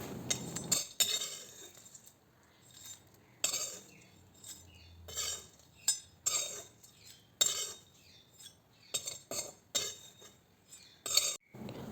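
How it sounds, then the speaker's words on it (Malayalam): Repeated metallic scraping and clinking of a utensil against a pan as dried shrimp are roasted, irregular bursts with brief pauses, close by and with no voices. "ചീനച്ചട്ടി അടുപ്പിൽ വെച്ചു അതിലേക്ക് ഉണക്കച്ചെമ്മീൻ ഇട്ട് നന്നായിട്ട് വറുത്തെടുത്തിട്ട്"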